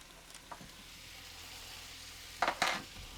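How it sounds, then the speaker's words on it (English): Half a stick of butter sizzling in a pan with pan juices from burbot, garlic and parsley, a steady soft frying hiss with two brief louder bursts of stirring near the end. "we're going to add about a half a stick of butter"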